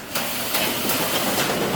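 A twin-motor Crazy Cart XXL drives with a loud, steady whirring and hissing motor roar, up close and rising slightly after a sudden start.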